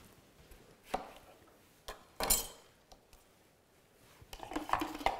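A single tomato is chopped on a kitchen cutting board, with a handful of sharp, separate knife strikes at irregular intervals and quiet pauses between them.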